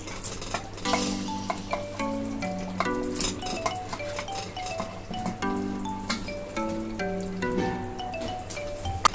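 Chicken pieces fry in a thick masala for Garhwali-style bhuna chicken, a moderate close sizzle under steady background music, with occasional clinks of a utensil against the pan.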